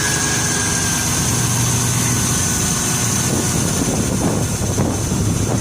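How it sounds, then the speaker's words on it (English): A 1997 Plymouth Voyager wheelchair-accessible van's engine idling steadily with the hood up, a continuous close, low rumble running through the whole stretch with no talking. "Let you hear the engine run."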